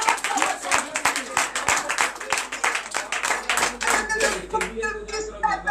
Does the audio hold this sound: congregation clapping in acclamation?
yes